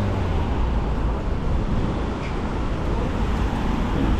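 Street traffic with feeder buses in Sha Tin, Hong Kong, a dense, steady roadway rumble of engines passing nearby, with no clear voices.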